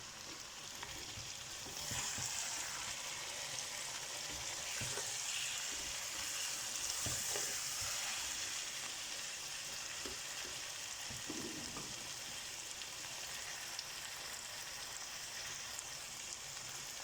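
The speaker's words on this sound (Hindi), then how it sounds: "ये मसाले जब भुनाई अच्छी तरह हो जाएगी" Spices roast in a karahi for chicken karahi, making a continuous close sizzle with occasional stirring scrapes and pops, and no one speaks.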